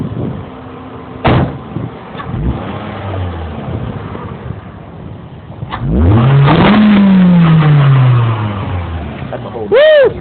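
A Scion xD's engine intake roars through one loud rev that climbs sharply and then winds down slowly, then blips briefly at the end. Door thuds and voices come before it.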